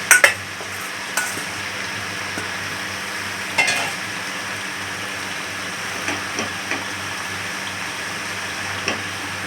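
Rice being stirred into vegetables and spices in a pan for fried rice, with a steady low sizzle under scattered scraping clinks of a spatula against the pan.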